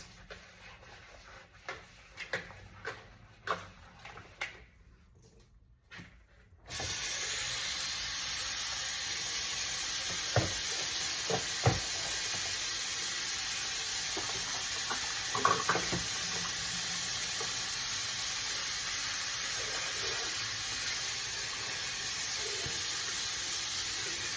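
Shrimp frying in a skillet for nachos gives a steady, even sizzling hiss that starts abruptly after a few quiet clicks and continues with occasional soft pops.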